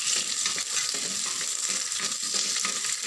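Small onions frying in a pan with curry leaves and whole dried chillies for village-style mutton kuzhambu, a steady dense sizzle and crackle running throughout, close and fairly loud, no talk.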